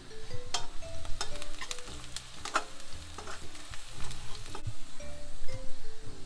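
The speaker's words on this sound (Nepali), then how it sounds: "एकछिन यसलाई भुट्छौँ" Chopped onion that has started to redden fries in a pan after a little cumin and coriander powder is added, for Nepali curd kadhi. A steady, close sizzle carries through with repeated stirring scrapes and no talk.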